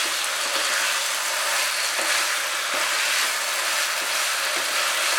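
Cauliflower korma masala is stir-fried in a pan, making a loud, even sizzle that holds steady throughout with faint scrapes from stirring and no talk.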